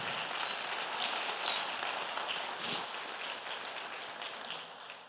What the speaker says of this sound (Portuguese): Vamos dar um aplauso a Jesus por essa palavra tão linda